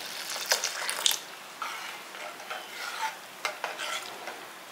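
Milk being poured into a pot of cooking foxtail millet payasam, giving a faint, soft liquid pour with light stirring and gentle bubbling in bursts, close and quiet, with no talking.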